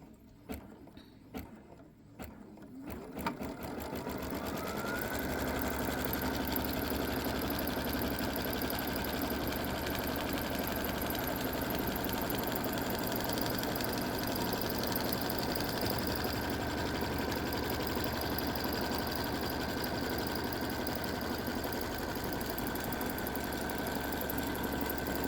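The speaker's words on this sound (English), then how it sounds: "So I've centered my batting over my placement line, and I'm going to stitch it down." A sewing machine stitches batting down onto a quilted patriotic table runner; after a few short starts, the motor runs in a steady, close, continuous mechanical hum with rapid rhythmic needle clatter, alone without talk.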